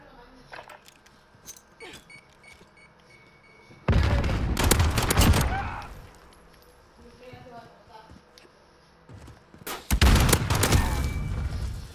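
Gunfire in Call of Duty: Modern Warfare, two loud bursts of rapid shots and booms separated by quieter stretches, with someone talking casually over the game sounds.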